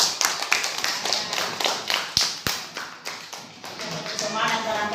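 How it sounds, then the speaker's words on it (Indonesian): Hands clapping together in a school classroom, a quick run of sharp claps repeated in an uneven rhythm, close by, with voices faintly underneath. "beri tepuk tangan dulu untuk kita semua."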